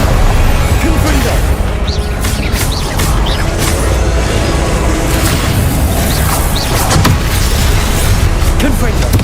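Confringo blasting spell in Hogwarts Legacy, fought on hard difficulty: loud, dense booms and crashing impacts through nine seconds of continuous combat din, with a voice speaking over it.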